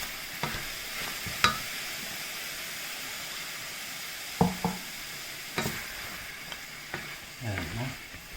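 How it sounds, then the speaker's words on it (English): Saltfish browning in a pan for a leek, tomato, onion and garlic wrap filling: a continuous sizzle broken by several sharp spatula scrapes and taps, ending in a brief rustling stir. "Our saltfish is browning up nicely here."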